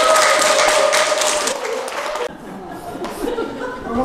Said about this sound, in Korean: 큰 박수로 원산 조원행 교무님 모시겠습니다